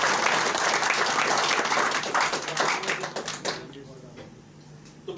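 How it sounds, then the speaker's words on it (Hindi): Dense, loud audience applause for Dr. Rajeev Dutta at a motivational training session in Itahari, Nepal, with steady clapping for about three seconds before it thins out and fades. "एक बार डॉक्टर राजीव दत्ता सर के लिए तालियां बजाइए।"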